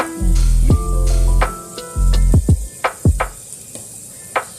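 Food is dropped into a hot pot and sizzles loudly in bursts, with sharp hissing surges that fade between stirs, close to the microphone.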